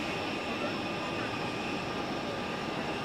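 Aircraft engines at Zurich Airport, a steady broadband roar, loud and unbroken, with voices talking faintly underneath.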